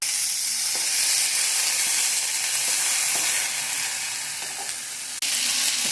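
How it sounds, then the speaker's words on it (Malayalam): Chopped tomatoes sauté in a pan for tomato dosa, giving a steady, close frying sizzle with soft scattered clicks from stirring. No one speaks throughout. "തക്കാളിക്ക് അരിഞ്ഞു. ഇത് നമുക്കൊന്ന് വഴറ്റാം."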